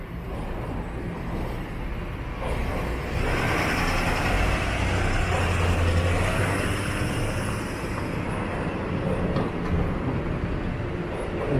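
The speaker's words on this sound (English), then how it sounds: "And you can hear the subway going up Yonge Street." A subway train rumbles beneath Yonge Street in downtown Toronto, a steady low roar that swells in the middle and then eases, mixed with general street noise and no talking.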